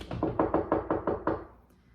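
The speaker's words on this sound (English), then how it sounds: "Something's knocking the door." Knocking on a door in a spooky children's show: about seven quick, evenly spaced raps, close and fairly loud, then the sound stops and fades to quiet.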